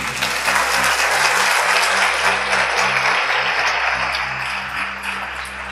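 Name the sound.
audience applause in church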